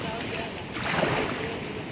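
Big ocean waves churn under strong southwest monsoon winds on a shore where a boat was wrecked, a continuous roar of surf and wind that swells into a louder crashing surge midway.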